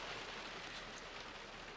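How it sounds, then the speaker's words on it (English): Steady rain mixed with a little snow falls outside an off-grid home, a soft, even hiss with faint drop patter, distant and quiet with no voices. "We woke up and it's still very much raining, kind of snowing."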